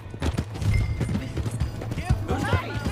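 Horse hooves clip-clopping in Red Dead Redemption 2, a rapid uneven patter close by, with voices talking over it.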